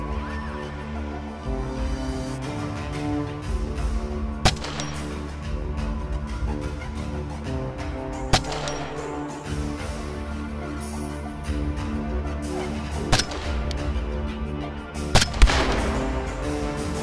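SG550 and SG540 rifles fire outdoors in the backcountry at the base of the Rocky Mountains, with several sharp cracks spaced seconds apart over a steady low rumble.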